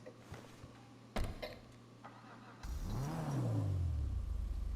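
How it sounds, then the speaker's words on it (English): A street racer car in GTA Online sits idling, then its engine revs hard through the exhaust, climbing and falling in a loud sustained roar after a few clicks and thumps. "Got a nice little exhaust there."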